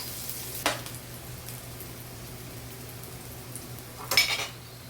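Onion being stirred and sautéed in a pan for ginisang talong, a low steady sizzle running throughout with two brief scraping clinks of utensil on pan, no talking.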